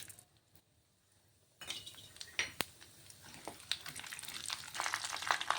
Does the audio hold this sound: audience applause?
no